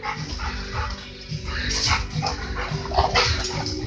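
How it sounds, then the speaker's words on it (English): A dog attacks a hanging punching bag in a shop, barking and yipping in rapid, excited bursts close by over constant scuffling and thudding noise. "the dog starts trying to take out the body bag"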